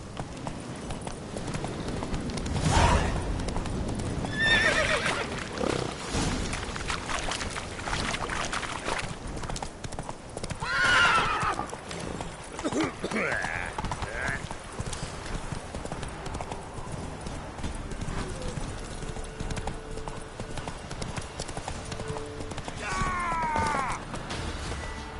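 Horse hooves clip-clop at a steady galloping rhythm in the video game Witcher 3, carried over a busy backdrop with occasional creaks and brief game sounds.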